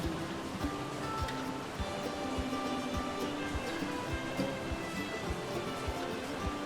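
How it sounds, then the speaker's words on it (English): Waterfall in Ark: Survival Evolved rushing steadily, a dense, faint wash of falling water with light splashing ticks throughout, heard alone. "This waterfall is the reason that the base is built in this area."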